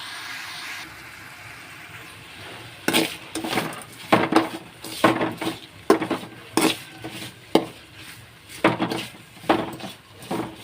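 Stirring salted food in a cooking pan at a home kitchen before bitter gourd goes in: a series of close metallic scrapes and clanks of a spoon against the pan, irregular strokes over a soft background, no talking.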